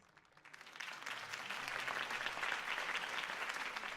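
Crowd applause breaks out after a campaign speech in Batman: The Telltale Series, a dense, steady wash of many clapping hands that swells in over the first second and holds at an even level.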